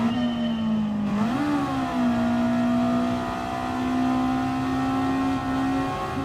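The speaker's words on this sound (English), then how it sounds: "Basically, motorcycle engine roar. 600cc." A 600cc motorcycle engine in the racing game Gran Turismo 7 roars at high, sustained revs, pitch dipping briefly and rising before holding a steady loud buzzing tone.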